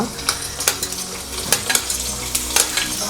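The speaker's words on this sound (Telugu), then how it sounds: "దాంతోనే ఆనియన్స్ అంతా వేసుకొని బాగా మంచిగా కలుపుకోవాలన్నమాట" Onions frying with peanuts and green chilies, stirred in a pan for semiya pulihora, a close sizzle broken by repeated scraping and clinking of a spoon against the pan.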